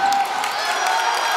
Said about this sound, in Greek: χειροκρότημα για την προσπάθεια της ελληνικής ομάδας από τους φιλάθλους κατοίκους εδώ της Λίμνου